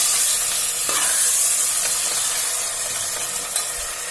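Tomatoes frying in masala for a Bihari-style dal fry tadka, a steady close sizzle and hiss with occasional soft stirring scrapes throughout, no voices.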